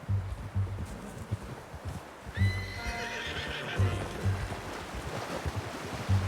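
A horse in the video game Red Dead Redemption 2 gives a loud, drawn-out whinny over steady hoofbeats, with a low rumbling game ambience underneath and no talking.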